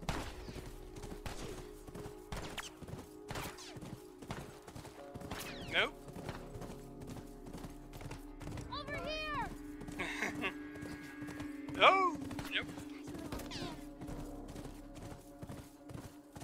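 Rhythmic clip-clop of horse hooves in The Last of Us video game runs throughout under game sounds, with occasional sharp bursts and brief whinny-like tones, fairly close.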